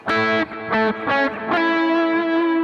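Electric guitar run through distortion and chorus effects plays a worship-style progression as chord tones, four sustained strummed chords in steady succession, the last ringing out, loud and alone.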